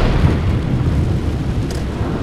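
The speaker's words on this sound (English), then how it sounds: "Thunder like yours." Thunder in a storm, a low, deep rumble rolling continuously for a couple of seconds, loud and close with no voices.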